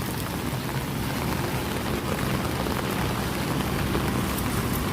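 Heavy rain pours down steadily over a street market in Paradeep, a dense, even hiss of drops hitting surfaces with no break and no voices.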